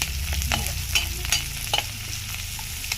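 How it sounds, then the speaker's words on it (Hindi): Onions frying in a non-stick kadhai, with a steady close sizzle and repeated scraping, clicking strokes of a spoon stirring them, and no voices. "थोड़ा से हिला देते हैं क्योंकि पकड़े ना कढ़ाई पे, हम लोग का प्याज ना जले"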